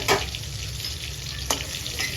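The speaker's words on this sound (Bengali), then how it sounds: "দেখো চিংড়ি মাছগুলো ভাজা হয়ে গেছে এবার আমি তুলে নেবো তেল ঝরিয়ে" Fried prawns being lifted out of hot oil in a home kitchen, a steady loud sizzle with two sharp clatters of the utensil against the pan.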